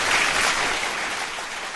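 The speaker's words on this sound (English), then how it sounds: "Big round of applause." Steady broadband wash of applause from a crowd, loud and continuous for the whole stretch with no pauses or individual claps standing out.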